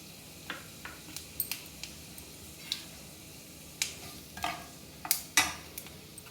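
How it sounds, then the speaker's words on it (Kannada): Fennel, cumin and mustard seeds fry in oil over a gas flame, giving sparse, faint pops and crackles with a few sharper ticks against a quiet background. No one speaks. "ಇದನ್ನು ಫ್ರೈ ಮಾಡ್ಕೊಳ್ತಾ ಇದ್ದೀನಿ."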